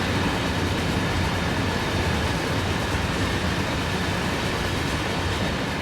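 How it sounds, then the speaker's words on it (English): A long freight train rolls past on a Cane Creek line in Train Sim World 2, a dense, steady rumble of wheels and wagons that stays loud and close for the whole stretch. "And there's the end of that train."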